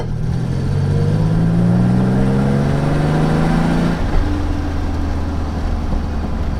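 A 1986 Nissan 300ZX widebody accelerates with a rising engine and exhaust note that climbs steadily, then drops back after a shift to a lower steady drone, loud and close with no talking.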